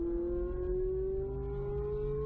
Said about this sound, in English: As we feel the positive camber rimshot us around the turn, we accelerate assertively and track out all the way to the right-hand edge of the track